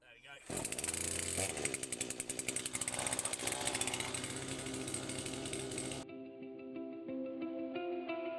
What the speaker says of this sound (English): ever since I've hit that chainsaw chain with a file, it's 10 times better